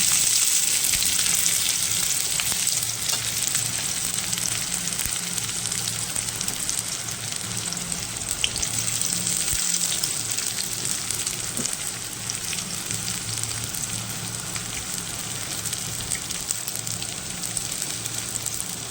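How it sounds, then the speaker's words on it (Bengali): Onions fry in hot oil in a pan, a loud, steady crackling sizzle close by that runs unbroken for the whole stretch with occasional faint pops. "তেল গরম হয়ে গেছে, ছেড়ে দেবো পেঁয়াজ ভেজে।"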